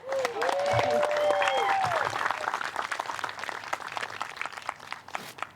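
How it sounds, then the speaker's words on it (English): An outdoor crowd at a disc golf championship applauds, scattered claps rising then thinning out, with an announcer calling out over the clapping early on. "Let's get a big round of applause going."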